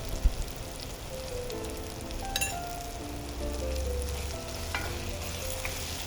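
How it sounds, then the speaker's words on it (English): Chutney ingredients fry in hot oil with a continuous, close crackling sizzle, fairly soft and even throughout. "I'm just going to cook it in the oil and then grind them all together"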